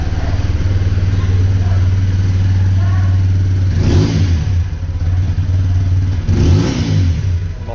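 A 2023 TVS Apache RTR 200 4V motorcycle engine idles with a heavy bass note close by, then is blipped twice, two short throttle revs rising and falling over the steady rumble.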